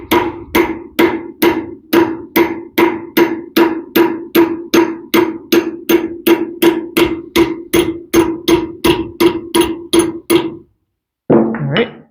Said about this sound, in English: And then you just use a hammer and hammer it out.